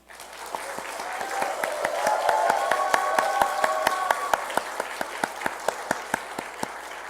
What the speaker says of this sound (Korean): 애쓰셨다고 박수 한 번만.